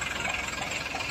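Tractor engine running steadily with a knocking, vibrating idle rumble, close and continuous, while the tractor is stuck deep in mud with its wheel sunk in, among Eicher old model, Eicher 241 NC and Farmtrac 45 tractors.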